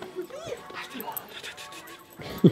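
Dogs whimper and give short high yips near a bear den, close and uneven, with people talking over them.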